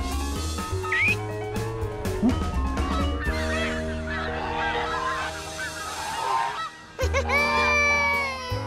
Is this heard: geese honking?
yes